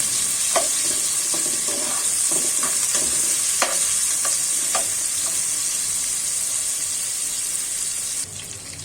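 Chopped onion and green chilli fry over medium heat under a constant strong sizzle, with a spatula giving repeated clear scrapes and taps for the first half before the stirring settles into a steady hiss.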